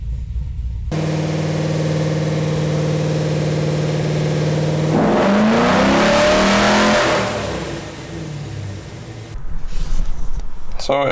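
Cammed LS3 V8 in a fifth-generation Camaro with headers and cold air intake, held at a steady drone on a dyno, then swept up hard in a loud rising rev before the throttle drops and the engine unwinds.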